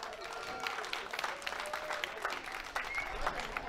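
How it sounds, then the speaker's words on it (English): Crowd at a fight event applauding both fighters after a bout, a steady wash of clapping from the audience lasting a few seconds at moderate volume, with faint voices underneath. "big round of applause for both fighters"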